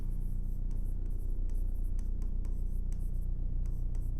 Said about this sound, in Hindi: यहाँ चलो पहले रीजन लिख देते हैं इसका